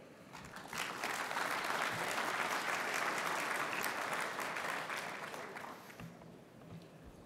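Audience applause welcoming a speaker on stage, a steady wash of clapping that swells after a second, holds for several seconds, then thins out, with a voice starting near the end.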